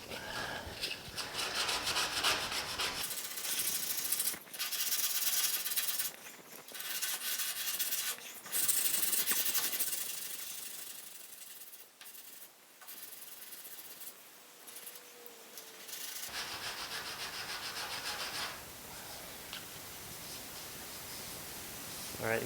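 Sanding with 80-grit paper on a lower cab patch panel of a 1950 Chevy truck: continuous rough, hissing strokes in uneven passes with brief pauses, close and steady throughout.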